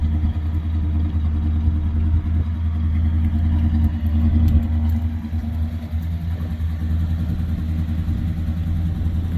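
A 1972 Plymouth Fury engine runs steadily on its own fuel supply, a close, continuous low rumble with a faint mechanical clatter and no talking.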